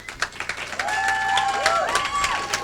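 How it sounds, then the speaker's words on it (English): Comedy club audience applause swelling into steady clapping, with some whistles and cheers rising over the crowd noise. "Republicans, by applause."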